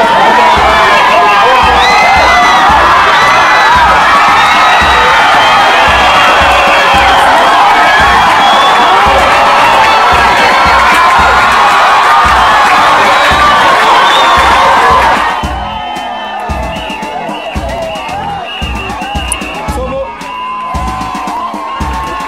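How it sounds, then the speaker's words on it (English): A loud crowd at a Pathfinder fancy drill and marching club event cheers, whoops and shouts with children's voices mixed in, a dense roar that drops abruptly to a quieter, thinner murmur of voices partway through. "The applause and words of encouragement"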